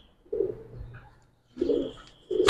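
A Giribaz pigeon, a silver Bagha green-neck, gives two short, low cooing phrases up close with a brief quiet gap between them, and a third coo begins right at the end.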